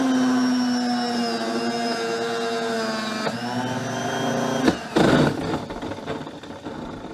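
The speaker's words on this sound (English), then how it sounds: "here's what the vacuum sounded like" A faulty vacuum motor in a Myteelite II 8070 carpet extractor, nearly ten years old, gives a loud, steady whining drone with layered tones. Its pitch sags around the middle, then a burst of harsh rattling noise breaks in.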